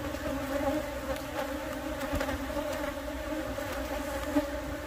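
Honey bees at a hive hum in a steady, dense buzz, close and continuous, with no voices.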